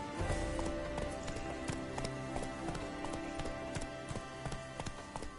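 Roach, a horse in The Witcher 3: Blood and Wine, gallops with a steady, fast clip-clop of hooves. A dense game soundscape with music surrounds the hoofbeats, which run throughout.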